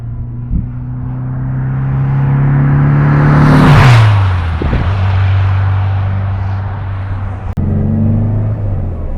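A 1962 Porsche 356 B 2000 GS Carrera 2 engine pulls hard from inside the car, its drone rising in pitch until a gear change drops the revs. The engine then pulls steadily again, loud and close throughout.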